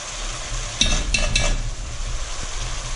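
Tomato paste stirred into caramelized onions in a Dutch oven for boeuf bourguignon, a continuous close sizzle with a few scraping spoon strokes and clanks against the pot.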